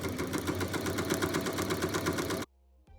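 A home embroidery machine stitches an outline on a fabric pocket pouch with a fast, steady mechanical whir and needle tapping, then stops abruptly into near silence with faint clicks.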